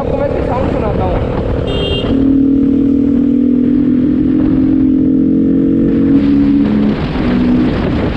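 A 2021 Bajaj Pulsar RS 200 motorcycle with an aftermarket air filter idling and revving with a raspy, throaty intake note, steady and close, rising slightly mid-way before settling back.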